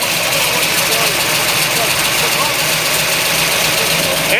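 A 1969 COPO Camaro with a 427 V8 and solid lifters idles loud and close, a steady rough rumble with a ticking valvetrain. Someone speaks briefly over the engine.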